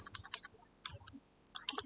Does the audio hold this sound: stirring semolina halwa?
no